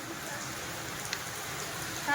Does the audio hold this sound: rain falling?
yes